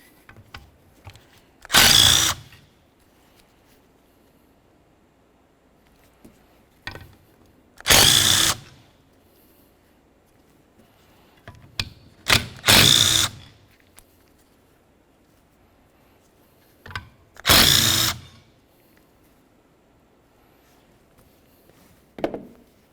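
A power tool running off the four 15 mm mounting bolts holding the power steering pump to its bracket on a 1994-2002 Dodge Ram 2500, five loud close bursts of whirring spaced apart by quiet pauses.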